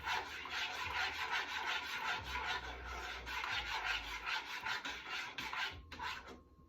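A spoon scrapes and rubs rhythmically against a pot while stirring Jamaican cornmeal porridge, a close, soft rasping that repeats in quick strokes throughout, with no talk.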